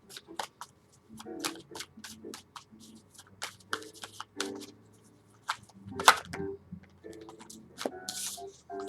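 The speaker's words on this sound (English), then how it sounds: "Two cards fell out here." Tarot cards being shuffled by hand in a quiet room, with soft repeated riffling and flicking, a couple of sharper slaps as cards drop out, and intermittent speech over the top.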